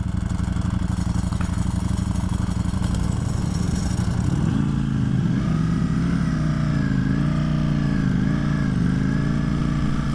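Two 2022 Ducati Streetfighter motorcycles, a V4S and a V4SP, run their V4 engines together, a loud continuous rumble that rises into revving with wavering pitch partway through.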